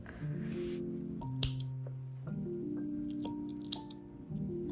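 Scissors trim the yarn ends of a crochet bralette, giving two crisp, isolated snips over steady background music.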